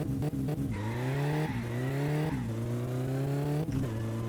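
In the driving game My Summer Car, a car on sport slick tyres spins its wheels while accelerating, its engine revving up through rising pitch in several pulls with brief drops between shifts, loud and close with no talk.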